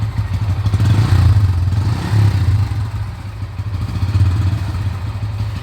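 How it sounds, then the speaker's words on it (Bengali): A motorcycle with a short underbelly exhaust idles and revs with a beefy, throbbing low rumble, loud and close, with light clattering throughout. "ছোট্ট একটা এক্সজস্ট, সাউন্ডটা শুনতে মোটামুটি বিফি লাগছে আমার কাছে।"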